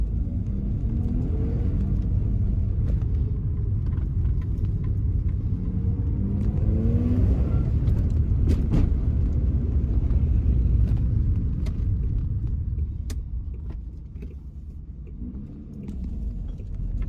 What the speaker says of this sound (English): Some sort of hissing sound under boost, so I'm guessing there's a boost leak somewhere.